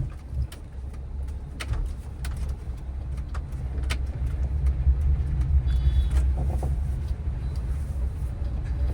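Car driven slowly through a narrow lane while turning left, a low steady engine rumble with road noise, faint clicks and brief higher tones along the way.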